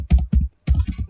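Computer keyboard typing, three or four quick, heavy keystroke thumps close to the mic, with a short silent gap between them.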